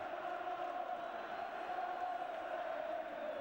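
A football crowd at a Notts County, Liverpool, Newcastle United or Brighton match chants a player's name, Keegan, as a steady, sustained roar from the distant stands.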